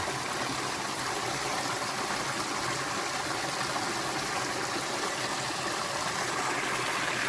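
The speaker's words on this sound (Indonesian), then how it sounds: "kalau ini kan air sungai yang dialirkan dari arah atas gitu ya" River water channeled down from the hills above, flowing in a steady, continuous rush close by.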